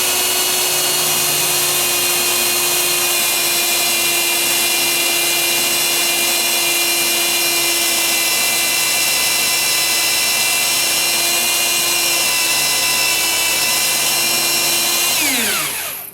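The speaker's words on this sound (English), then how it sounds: "you just rotate the drill" A power drill bores a dowel hole in wood, a loud steady whine running continuously up close for many seconds before spinning down at the end.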